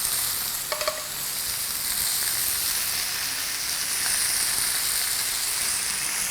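Seasoned catfish fillet sizzling steadily on the heat, a loud, close, continuous hiss with a couple of faint taps near the start and no voices.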